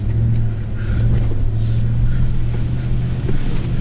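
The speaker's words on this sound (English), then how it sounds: "Let's see what this truck will do. Still in 4 high, off-road mode with the rear end locked." A 2022 Chevrolet Silverado ZR2 pickup in 4-high off-road mode with the rear locker engaged churns through mud ruts. A loud, continuous engine rumble holds steady throughout, with no talking.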